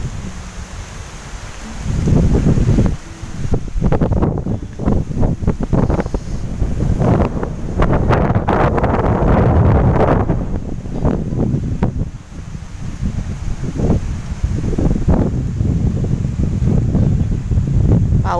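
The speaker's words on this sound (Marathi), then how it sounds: "ते बघा आला वारा आला बघा." Strong storm wind gusts outside a house, rising into loud, blustery surges with rushing, buffeting noise that swells and eases repeatedly over several seconds.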